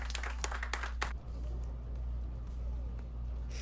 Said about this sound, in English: Everybody's cheering and clapping.